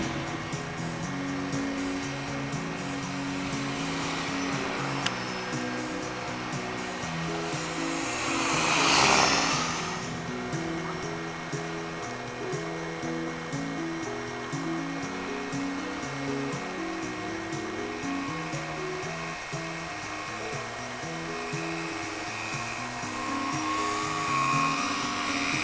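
A Durafly Auto-G model autogyro's electric motor and propeller run continuously with a steady high whine, swelling briefly louder partway through, with no voices.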